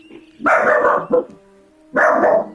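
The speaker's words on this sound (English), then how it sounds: "I love how the live stream just opens up to just my dog barking." A pet dog barks loudly and close by indoors, two sharp bursts followed by a third after a short pause, with no voices.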